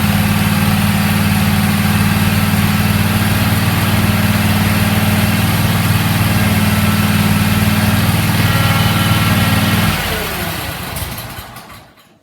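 A zero-turn lawn mower engine runs at a steady, loud drone close by, holding constant for about ten seconds before winding down and fading out at the end.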